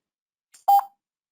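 A single short electronic beep from a computer while coding in Visual Studio 2019, close and clear, preceded by a faint click and then silence.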